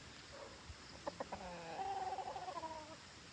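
A prize-winning derby rooster on a farm gives a few short clucks and then a longer, drawn-out call, fairly close but fairly quiet, with no talk.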